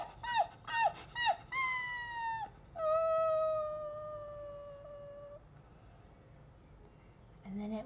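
A voice imitates dogs, first with several short yelping barks and then with long, drawn-out howling cries that fade, all close and fairly loud.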